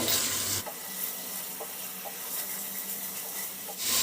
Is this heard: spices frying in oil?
yes